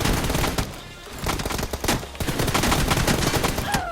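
Gunfire in the mobile battle-royale game PUBG Mobile: rapid bursts of sharp shots crackle in quick clusters, loud and close, with brief gaps between volleys and no talk over them.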